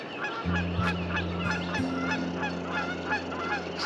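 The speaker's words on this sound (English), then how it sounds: "Geese right there." A flock of geese on a lakeshore honks repeatedly nearby, overlapping calls scattered over a low, steady background hum.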